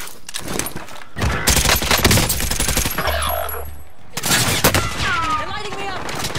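Gunfire in the video game Warzone Resurgence: several loud bursts of rapid shots close by, broken by short pauses, with excited voices talking over the shooting.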